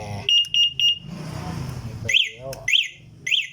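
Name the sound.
anti-theft alarm of an electric vehicle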